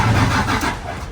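A Toyota Prado with no power crank-starts, giving a brief, steady low whir with no catch, heard close and alone.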